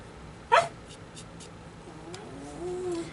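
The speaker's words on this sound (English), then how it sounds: "if you hear the dogs in the background" Dogs in a home setting begging for bones, with one sharp close bark early followed by fainter yips and a thin whimpering whine near the end, all fairly soft and intermittent.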